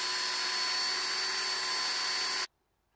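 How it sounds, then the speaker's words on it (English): A small 5/32 pilot drill whirs steadily at high speed for a couple of seconds, drilling holes in a wooden shoehorn handle, close and loud, then cuts off abruptly into silence. "used a small 5/32 pilot drill to drill out the holes first"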